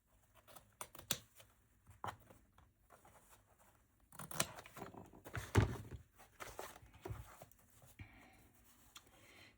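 Paper being cut with scissors while taking apart a vintage journal: quiet, irregular snips and rustles close by, with a slightly louder flurry of cutting in the middle.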